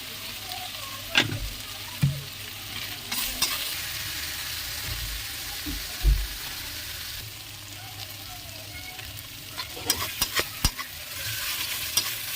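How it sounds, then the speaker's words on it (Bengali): Spice paste with salt and turmeric sizzles in a pan for chicken curry, with a steady frying hiss broken by repeated loud scraping and clanking stirs. "মশলাটা কষিয়ে নিয়েছি"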